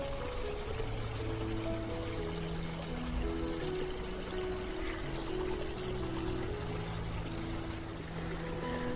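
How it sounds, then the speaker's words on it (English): Water pours steadily from a fountain shaped like a real wood log in a garden, a continuous splashing stream recorded close, with a faint low tonal hum running underneath. "This looks like a real wood log with water coming out of it."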